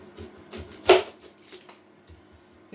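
A knife chopping a large red onion on a board, a handful of soft irregular cuts with one sharper knock in the middle, close and quiet with a low hob hum underneath.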